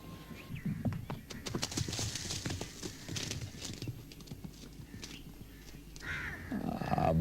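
A horse gallops in an old Punjabi drama, its hooves clip-clopping in a fast irregular rhythm at moderate volume, mixed with snorts and a whinny-like sound near the end.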